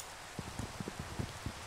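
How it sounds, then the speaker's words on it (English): Rain in the video game Minecraft, a steady close hiss of falling water with soft, regularly spaced low thumps running under it. "But it's raining. It's raining!"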